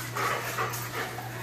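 Dog panting rhythmically during heel training, short breathy bursts repeating close by over a steady low hum.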